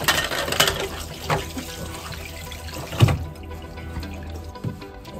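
Water trickles and drips from a boat's log (speedometer) through-hull fitting after its plug is pulled, a light irregular flow with a few louder splashes, heard close up.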